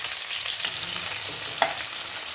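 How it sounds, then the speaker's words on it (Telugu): Onions and green chillies dropped into hot oil for a Telangana-style dried prawn and tomato curry, sizzling loudly and steadily up close with a few stirring scrapes and one sharp clink. "ఇప్పుడు మన నూనె కాగినాక ఇప్పుడు మనము ఉల్లిపాయలు పచ్చిమిరపకాయలు వేసుకుందాం."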